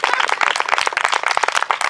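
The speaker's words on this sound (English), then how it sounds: "I'll take applause for that" Dense, steady applause from an event audience, many hands clapping at once, loud and close, with no voices over it.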